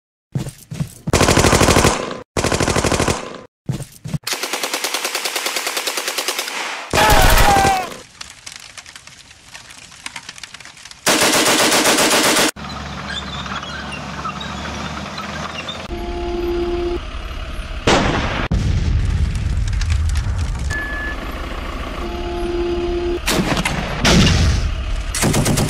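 Bursts of machine-gun fire and loud blasts from a stop-motion army-men war scene with plastic soldiers, erupting in several heavy volleys separated by brief gaps, with voices talking between and under the gunfire.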